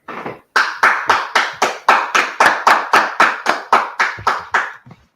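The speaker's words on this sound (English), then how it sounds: "Let's clap it up." A group claps in unison, sounding about fifteen sharp, loud, evenly spaced claps in a steady rhythm, with a brief pause after the first one and no talking over them.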